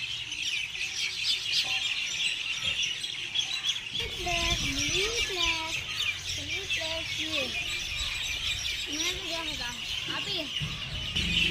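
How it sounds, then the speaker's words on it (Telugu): Birds call from a neem tree outdoors, a loud steady hiss of chirping under a run of repeated, rising and falling tonal calls that come in clusters over several seconds. "చాలా బాగా అరుస్తున్నాయి కదా పక్షులు."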